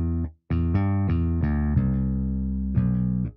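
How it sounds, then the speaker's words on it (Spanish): Electric bass notes from the Classic Bass and Funk Bass sampled instruments of the Kontakt Factory Selection, played as a short run of deep, sustained plucked tones with clear attacks, close and loud, with a brief gap near the start. "Son el Classic Bass y el Funk Bass de la Contact Factory Selection"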